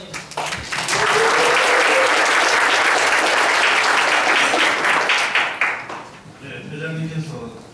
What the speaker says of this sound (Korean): 큰 박수로 최 교수님을 먼저 환영해 주십니다